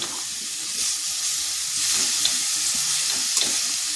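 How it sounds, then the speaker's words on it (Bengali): Patali jaggery goes into a hot pan of semolina for steamed vapa pitha, bringing a steady bright sizzle with soft stirring scrapes and a couple of small clicks, close and continuous. "এরপর দিয়ে দিচ্ছি গুড়। আমি এখানে পাটালি গুড় ব্যবহার করছি।"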